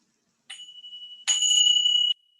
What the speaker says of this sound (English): as you listen to the chime